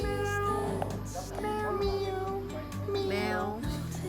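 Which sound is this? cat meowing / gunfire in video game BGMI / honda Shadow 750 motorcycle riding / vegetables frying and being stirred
cat meowing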